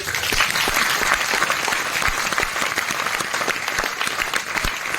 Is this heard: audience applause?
yes